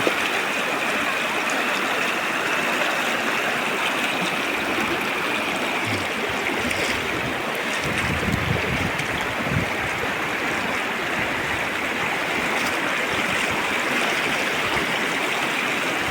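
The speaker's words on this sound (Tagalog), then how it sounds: "napakalakas talaga ng current ng uh, tubig" Strong river current rushing over rocks in clear water in Cotabato, a loud, continuous, steady roar of flowing water close by that fills the whole scene without letting up.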